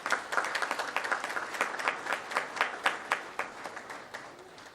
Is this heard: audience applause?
yes